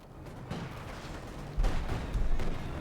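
Heavy cannon shots from a StuG assault gun pound Soviet Guardsmen in Company of Heroes 2, a few deep booms thudding out over a rumbling battlefield background.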